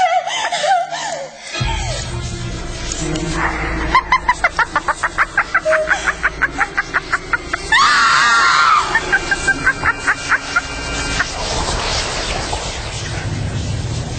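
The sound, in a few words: woman screaming in a radio drama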